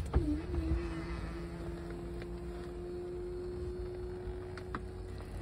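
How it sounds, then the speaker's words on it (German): Electric convertible roof of a VW Golf 3 Cabrio running, a steady quiet motor whine holding a constant pitch throughout, starting with a soft clunk and ending with a faint click. "und zum Schluss das elektrische Verdeck."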